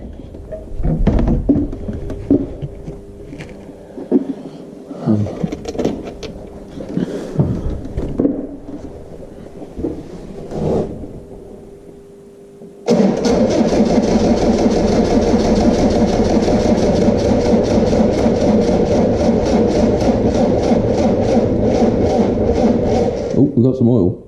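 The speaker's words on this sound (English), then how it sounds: "if the engine will turn over a bit faster now to pump some oil through there." A Land Rover Defender engine with a flat battery is cranked over, first with handling clatter and someone talking, then a loud continuous rhythmic churning of the starter turning the engine for about ten seconds before it stops.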